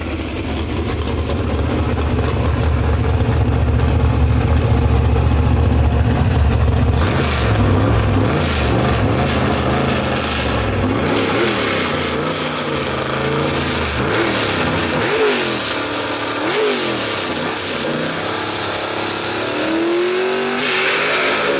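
A gasser drag race car does a burnout at South Carolina Motorplex, its engine droning loud and steady, then revving hard in repeated rising and falling sweeps with tire roar, near and powerful, with no talking.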